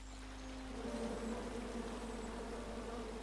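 Bees buzzing around a nest in the King's Quest video game, a steady droning hum that holds close and even throughout, with no talking over it.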